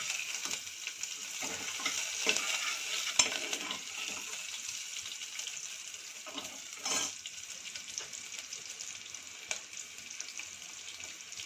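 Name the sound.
onions frying and being stirred in a pan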